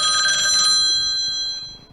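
A telephone rings with a bright, electronic trill in a home setting, holding steady and then fading out toward the end.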